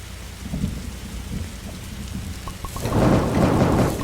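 Rain hisses steadily in the Roblox game 99 Nights in the Forest, then thunder swells into a loud, deep rolling rumble near the end.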